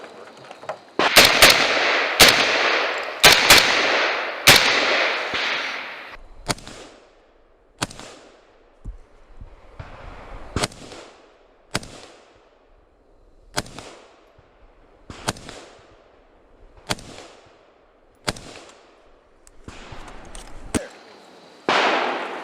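Pistol shots ring out on a 3-gun competition stage: a quick rapid string of loud, sharp cracks, then single shots at steady intervals of roughly a second or more, close and echoing outdoors.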